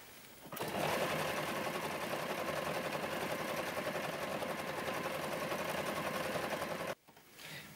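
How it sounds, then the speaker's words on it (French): A domestic sewing machine stitches with black thread in one long, steady run, a close rapid mechanical whir with fine rhythmic ticking that stops abruptly near the end, followed by a faint brief rustle. "là on va passer à la machine à coudre"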